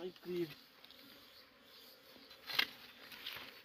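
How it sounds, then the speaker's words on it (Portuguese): A large bee buzzes at its nest in a rock crevice, the faint hum running throughout with a brief louder swell near the middle, over a low background. "É abelhão, essa aqui é muito grande"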